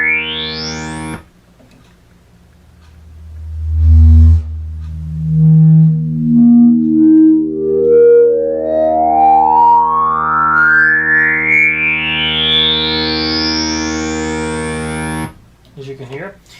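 A Roland Jupiter-6 synthesizer sounds notes with slow envelope attacks that swell in, followed by a long sustained tone whose pitch sweeps steadily upward before cutting off.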